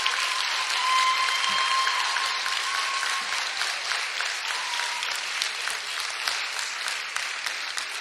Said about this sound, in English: Let's give it a round of applause for all of our contestants in the 2014 Little Miss